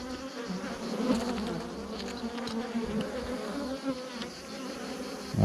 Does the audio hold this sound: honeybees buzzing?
yes